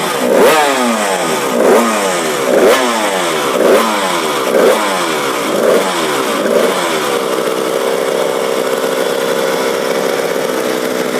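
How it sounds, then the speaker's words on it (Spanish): Lightweight-class two-stroke racing motorcycle at the Manx Grand Prix on the Isle of Man, loud and close: a series of sharp blipping revs about once a second, then a steady high-pitched buzzing drone. "Esta es la categoría Lightweight aquí en el Manx para dos tiempos."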